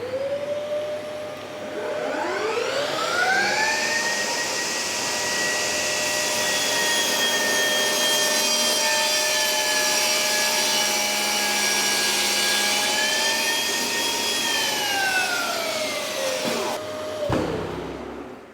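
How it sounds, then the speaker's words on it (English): A battery-powered table saw spins up and rips a 30 mm strip from an MDF board. Its steady, loud whine holds for about fifteen seconds, then winds down, and there is no talking. "So I've done my first ever cut with this saw"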